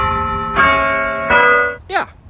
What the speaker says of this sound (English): Even the church bells are sort of strange.